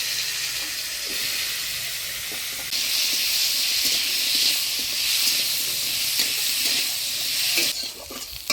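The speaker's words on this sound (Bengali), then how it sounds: "এবার অল্প তেল দিয়ে পটলটা ভাজে নেব" Sliced pointed gourd (potol) fries in a little oil with chilli, garlic and nigella seeds, giving a loud, steady close sizzle with stirring scrapes. The sizzle swells after a few seconds and drops away briefly near the end.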